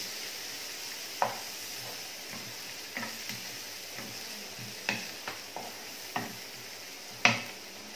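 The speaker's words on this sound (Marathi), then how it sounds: "आणि कांदा आता यामध्ये छान मऊ करून घ्यायचा आहे।" Finely chopped onions soften in a pan with a low, steady sizzle, while a spoon clicks and scrapes against the metal in irregular taps, a sharper knock near the end.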